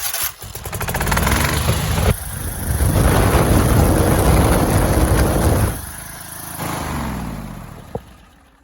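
A Kohler V-twin engine cranks over and catches, running loud and rough nearby. Its tone changes partway through, then it drops to a lower idle, with a sharp click near the end.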